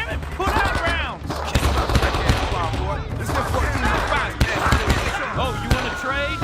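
Rifle gunfire in the video game Men of Valor, set around Da Nang: rapid, overlapping shots and bursts crack loudly throughout, mixed with shouting voices.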